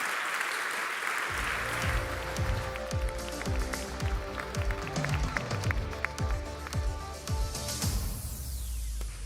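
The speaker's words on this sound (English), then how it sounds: "Let's have one more round of applause for Jacob Arvidsson." A conference audience gives a round of applause after a tech talk, steady clapping throughout, with low rumbling thuds and tonal ringing layered underneath.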